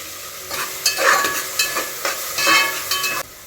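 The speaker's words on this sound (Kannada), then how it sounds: "ಇವಾಗ ಒಂದು ಟ್ವೆಂಟಿ ಸೆಕೆಂಡ್ಸ್ ಚೆನ್ನಾಗಿ ಈರುಳ್ಳಿ ಫ್ರೈ ಆಗಿದೆ" Onions and curry leaves frying in a pan for a hotel-style chicken liver fry, with a loud, close sizzle and hiss and several bursts of stirring scrapes over about three seconds.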